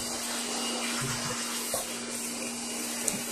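An air blower roars steadily while drying cleaned parts of a Whirlpool automatic washing machine, a loud continuous whoosh with a constant hum and a few faint knocks.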